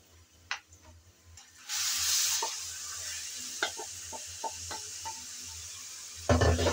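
Marinated loitta fish dropped into lightly fried onions: scattered spoon clinks, then a sudden loud hiss of hot oil that softens into sizzle with stirring taps, and a final sharp burst near the end.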